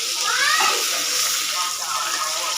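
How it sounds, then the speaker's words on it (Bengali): Fish frying in a pan of oil, a steady close hiss and sizzle throughout, with a voice briefly over it. "আমার মাছ ভাজা হয়ে যাচ্ছে, তো উল্টাই দিতে শিখছি।"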